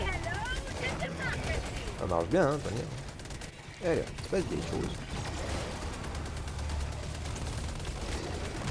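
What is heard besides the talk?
laser cannon and gunfire in Helldivers 2 video game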